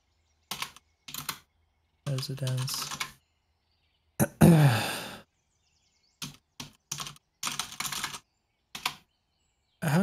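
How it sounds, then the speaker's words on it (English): Bursts of computer keyboard typing come in short clattering runs separated by pauses, close and crisp, with one brief spoken word among them. "I have to click here to get the cursor to go back so I can start typing again"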